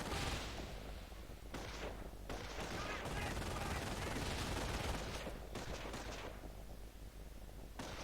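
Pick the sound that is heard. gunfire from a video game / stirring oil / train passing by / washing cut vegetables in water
gunfire from a video game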